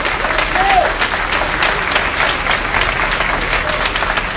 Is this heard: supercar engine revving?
no